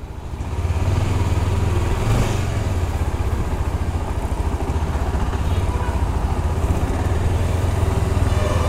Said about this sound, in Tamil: ரைட், வண்டி ஓடி பார்க்கலாம்.